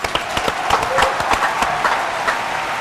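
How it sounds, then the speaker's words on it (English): Audience at a nighttime Fort Lauderdale event gives a short round of applause, a quick burst of scattered claps with a voice briefly heard over it. "the audience, please give her a round of applause"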